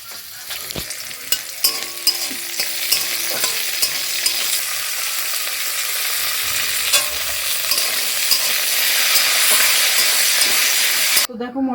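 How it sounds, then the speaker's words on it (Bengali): Green peas fry in oil and ghee in a kadai, giving a steady, close sizzle that builds and grows louder, with spoon clinks and scrapes of stirring early on and a sudden cut at the end. "মটরশুঁটি তো তেলে দিলে সমানে ফুটবে, এই জন্য আস্তে ধীরে ভাজবো"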